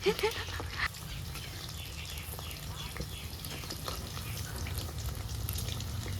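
Chicken pakora fries in hot oil in a wok, giving a continuous crackling sizzle with a few sharper pops near the start, moderately close and fairly quiet.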